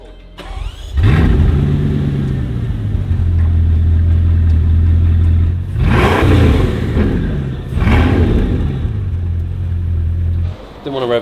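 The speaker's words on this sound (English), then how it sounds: "Didn't want to rev it too loud." Lamborghini supercar engine revving inside a large showroom, a loud deep roar that swells and holds, eases off, then blips twice more before settling back to a steady rumble, with voices talking over parts of it.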